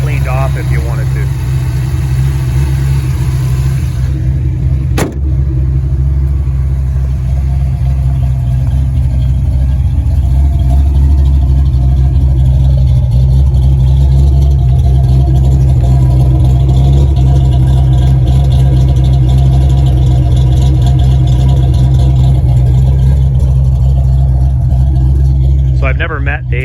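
Rebuilt 347 stroker V8 in a 1989 Ford Mustang LX Fox body idling, a loud, steady low rumble held evenly throughout, with one brief sharp tick early on.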